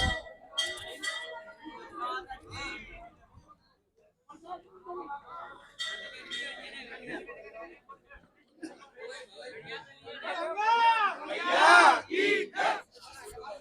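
A crowd of villagers gathered around a well in Gadauli village, Bharatpur, with a dense mix of many voices and shouts that swell loudly near the end, broken by a brief quieter gap.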